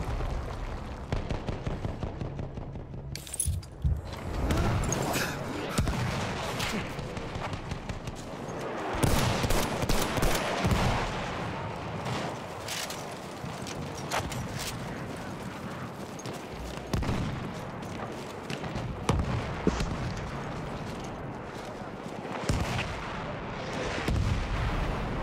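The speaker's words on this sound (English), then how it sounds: "Whoa, they're using the guns." Battlefield 1 battle with heavy artillery booms and rattling gunfire, repeated loud blasts and shots spread throughout, some near and some distant, with chaotic combat noise between them.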